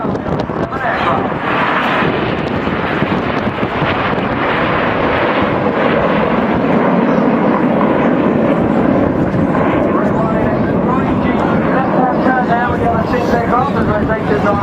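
Aerobatic display jets in formation roll overhead at the Herne Bay Airshow 2017. A loud, continuous engine roar with wind buffeting runs throughout under steady commentary.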